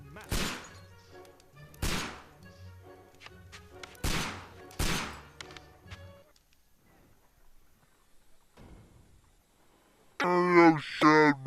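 Four loud, close gunshots fired by Holmes at Watson, spaced roughly two seconds apart with ringing tails, then a quiet stretch before a voice shouts near the end.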